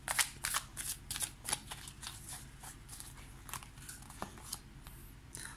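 Tarot cards shuffled and drawn for a reading, with a run of quick papery riffles and slaps near the start that thin into scattered softer card flicks and placements, close and fairly quiet with no talking.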